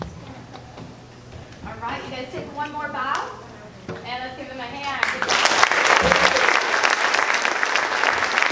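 Applause for karate students at an evening karate show, breaking out loud and dense midway after a stretch of speech, then holding as sustained crowd clapping.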